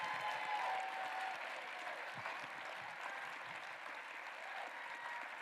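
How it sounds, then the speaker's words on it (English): Applause from a town hall audience, a dense, even wash of many hands clapping, fairly soft and somewhat distant, holding steady throughout with no talking. "please give them a round of applause"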